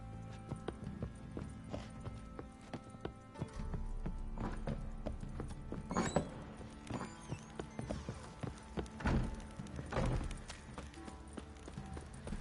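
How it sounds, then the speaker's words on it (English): Horse hooves clip-clopping in The Witcher 3: Wild Hunt, a run of moderately close hoofbeats with uneven rhythm over quiet game ambience and faint background music. "time to water the horses."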